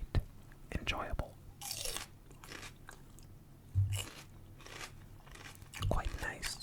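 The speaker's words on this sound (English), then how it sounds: "I think these crunchy bell pepper chewing sounds are quite enjoyable." Crisp, close bites and crunchy chewing of raw bell pepper come in a few sharp bursts between quieter stretches of mouth sounds, with soft whispered talk in between.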